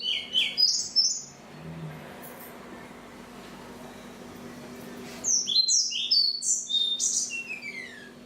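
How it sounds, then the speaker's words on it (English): A pied flycatcher sings two bright, high phrases of quick sweet notes, the second ending in a descending run, separated by a quiet pause and heard clearly against faint background hiss. "For instance, this pied flycatcher."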